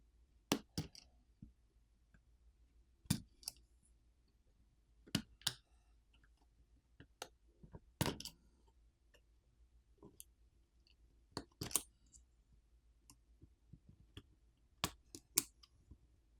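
Small, sharp clicks sound one at a time at irregular intervals in near silence as flex cable connectors are pried off a Unihertz Titan Pocket phone's main board.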